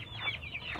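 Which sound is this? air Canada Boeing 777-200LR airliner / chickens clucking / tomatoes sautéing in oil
chickens clucking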